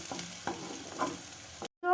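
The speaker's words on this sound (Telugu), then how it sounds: "ఆనియన్ అనేది ఒక గోల్డెన్ కలర్లోకి వచ్చినంత వరకు మనం మిక్స్ చేస్తూ ఉండాలి" Onions fry in a pan and are stirred until golden, a dense steady sizzle with a few soft stirring scrapes before it cuts off abruptly near the end.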